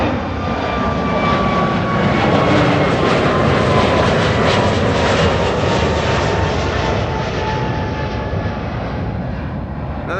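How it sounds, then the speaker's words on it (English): A KLM Airbus A321neo jet roars at Amsterdam Schiphol Airport, loud and steady and close by. The engine noise stays at one level for the whole stretch, then eases off slightly toward the end. "Another KLM A321 Neo, right? Yeah. On its way."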